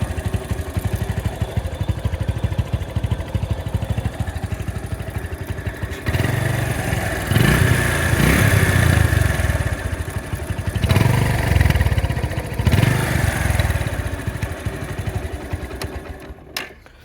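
A ten-year-old Bajaj Discover 135 motorcycle with an untouched original engine idles nearby, a steady low chugging thrum with light mechanical clatter, briefly swelling louder a few times before fading at the end.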